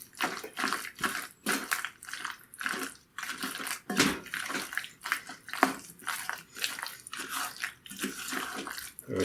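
Bratwurst mac and cheese pasta mixture being stirred and folded in a bowl, making wet, squelching, sloppy sounds in an irregular rhythm, close and moderately loud with no talk.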